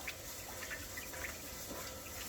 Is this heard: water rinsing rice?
yes